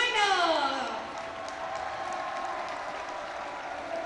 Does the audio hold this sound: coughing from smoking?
no